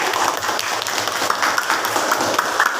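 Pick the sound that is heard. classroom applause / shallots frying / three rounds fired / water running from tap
classroom applause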